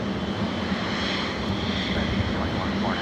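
Airbus A380 jet airliner at LAX airport, a steady broadband engine roar that stays loud and even throughout, with no voices over it.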